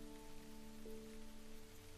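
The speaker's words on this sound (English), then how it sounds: "that make the sound of the rain echo further and further" Steady rain falling as a soft, even wash of patter, with a faint tonal hum running underneath, quiet and unbroken throughout.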